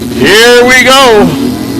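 A 1982 Harley motorcycle launches at a bracket drag race, its engine revving up loud and rising in pitch, then briefly easing and climbing again before trailing off.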